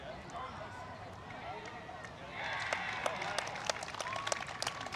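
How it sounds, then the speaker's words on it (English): A crowd at a junior rugby league trial match between Rabbitohs and Tigers at Mascot Oval rises in cheering and clapping midway, growing louder over steady outdoor background noise. "And the crowd's going up."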